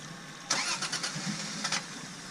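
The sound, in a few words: Toyota FJ Cruiser engine cranking but failing to start, wet coils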